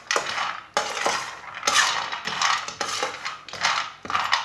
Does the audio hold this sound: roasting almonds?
yes